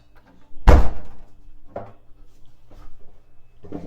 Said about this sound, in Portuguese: Davi, dá para fechar a porta aí, por favor?